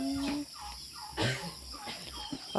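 Turkeys on a Filipino poultry farm gobble in a few loud, warbling bursts, close by, with other fowl noises in the background and no talking.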